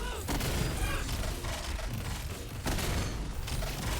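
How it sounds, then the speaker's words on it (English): Gunfire from the first-person shooter game Sprawl, a dense, continuous barrage of shots and booms filling the whole stretch at steady loudness, with a brief dip before a renewed burst. "Game go shooty shooty bang bang."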